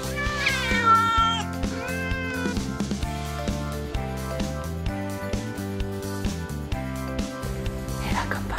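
Several cats meow and caterwaul loudly in overlapping, drawn-out cries, a chorus of distressed yowls, with no one talking over them.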